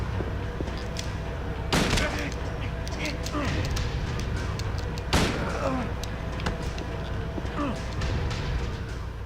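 Rifle shots fired in Silent Hill 2, two sharp loud blasts a few seconds apart standing out over a steady game ambience and background music.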